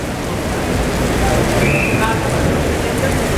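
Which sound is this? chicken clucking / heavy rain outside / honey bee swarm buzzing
heavy rain outside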